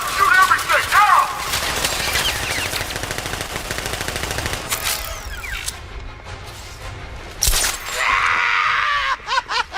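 Automatic gunfire and scattered shots ring out during a militia ambush in Batman Arkham Knight, loud bursts overlapping with shouting voices and game sounds, continuing in dense volleys before a few sharp final bursts.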